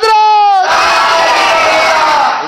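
A large devotional audience at a naat gathering shouts a slogan back in unison, a loud, enthusiastic burst of many voices following a single leader's sustained call.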